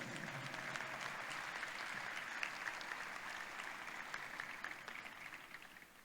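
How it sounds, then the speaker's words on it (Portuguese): Steady audience applause fills an opening ceremony hall at an academic congress, dense and sustained at moderate distance, slowly thinning toward the end, with no voices over it. "eu peço uma salva de palmas"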